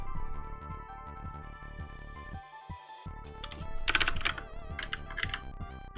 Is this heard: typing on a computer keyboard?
yes